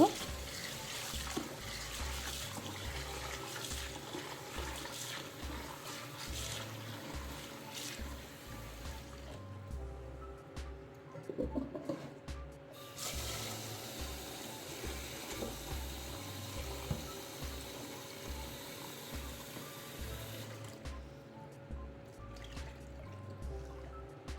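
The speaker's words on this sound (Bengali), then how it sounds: "চালটাকে ধুয়ে প্রথমে আমি বসিয়ে দিব" Running tap water pours steadily while rice is washed in a sink at home, a continuous near splash with brief pauses and dripping sounds.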